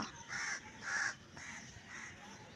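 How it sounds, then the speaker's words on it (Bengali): Four repeated caws from crows, moderately distant and fairly faint, spaced at a steady rhythm against quiet outdoor background. "পাখিগুলো ডাকছে"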